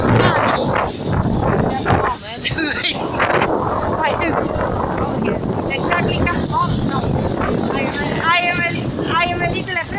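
Strong wind buffeting the microphone on Walmer Beach, UK, with a constant low rumble, a voice talking underneath throughout.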